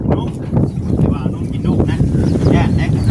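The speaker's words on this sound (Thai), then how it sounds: "แต่ว่าลม นี่ถือว่าสุดยอดลมนี่" Strong wind buffets the microphone in a steady, loud low rumble that lasts throughout, with a person talking over it.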